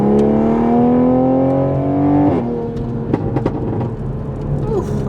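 A Toyota Supra engine revs steadily with a rising droning pitch, then drops abruptly to a lower idle rumble with some clicks and ambient noise.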